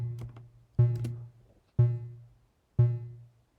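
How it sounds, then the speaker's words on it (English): Three bright SuperCollider synthesizer notes sound one after another, each striking sharply and fading into a spacious reverberant tail, preceded by a few softer clicks. "Let's play a bit with the reverb effect,"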